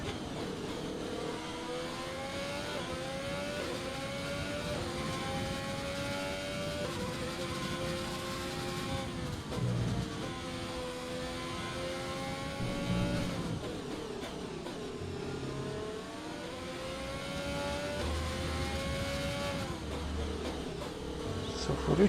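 An F1 race car from the F1 2020 game laps the Interlagos circuit in Brazil, its engine droning steadily and shifting pitch through gears for the whole stretch, with a voice talking over it.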